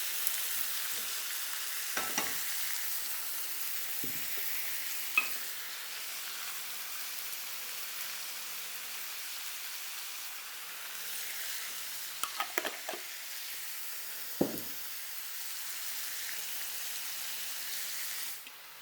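Onions fry in a hot pan with a steady, soft sizzle and crackle lasting throughout, broken by a few clinks and scrapes of stirring, with no talking.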